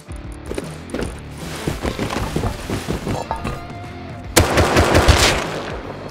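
Rapid bursts of gunfire in the survival game Rust, a close, loud rattle of repeated shots running throughout, with a heavier burst of fire near the end.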